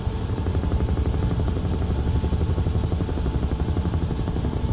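Simulated UH-1 helicopter from Flight Simulator 2024 accelerating at full power down a runway, a loud, steady rotor thump with dense rhythmic chopping and engine roar throughout, no voices.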